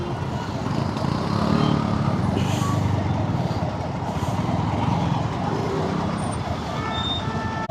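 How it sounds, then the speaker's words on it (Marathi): Heavy traffic jam with trucks on a city road, a steady loud rumble of engines and road noise with occasional hiss and horn-like tones, continuous and close throughout. "केवढा बेकार ट्रॅफिक आहे, एवढं बेकार."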